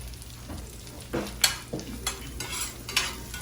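Chicharrones in red tomato sauce sautéing in a pan, a soft bubbling sizzle broken by several distinct scrapes and clinks of stirring, close and uneven.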